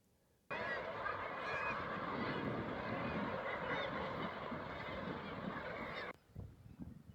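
A dense colony of razorbills calling on Skomer island, a loud continuous mass of rough, overlapping croaks that starts abruptly and cuts off after about six seconds, followed by fainter scattered sounds.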